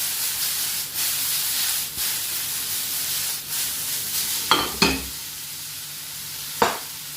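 Prawn and vegetable stir fry with ginger, chilli and lemon sizzling steadily in a hot pan, broken by a few sharp stirring scrapes near the end, no one talking.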